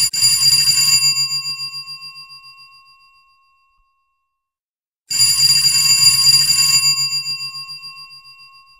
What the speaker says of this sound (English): might want to ring the doorbell